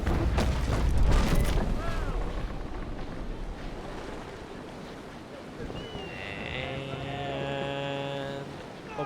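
Heavy booming cannon fire from the Wasa, a third-rate ship of the line, in a naval video game, with deep thuds early on amid background rumble while someone talks over it.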